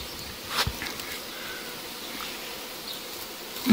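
Continuous buzzing of honey bees around a hive during a varroa mite powdered-sugar test, a dense steady drone with a few closer passes standing out.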